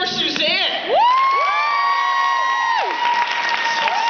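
Comedy club audience cheering, whooping and applauding a stand-up comedian coming on stage, a steady burst of crowd noise with a bright drawn-out whoop rising above it throughout.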